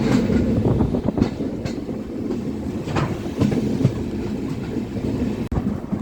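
An express train runs along the railway line near Tenkasi with a steady low rumble and regular clickety-clack of wheels on the track, heard from on board at close range without talk.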